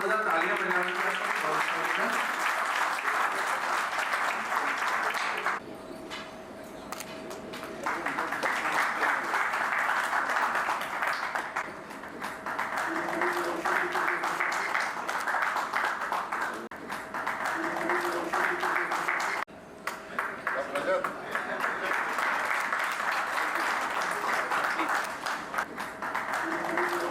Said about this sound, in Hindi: थोड़ा सा जोरदार तालियां बजाने के लिए